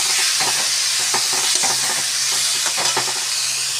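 Star fruit chutney softening in a pan, loud close sizzle under repeated scraping strokes of a spoon stirring in an uneven rhythm, with no talking.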